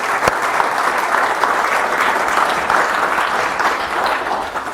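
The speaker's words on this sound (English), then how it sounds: "Give them a big round of applause" Big round of applause from a seminar audience for the speaker's mother and father, heard as loud, dense, continuous clapping with a sharp clap at the start and a steady wash through to the end, no talking over it.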